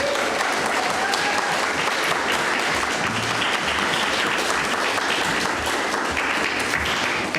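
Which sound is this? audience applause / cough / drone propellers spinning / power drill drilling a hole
audience applause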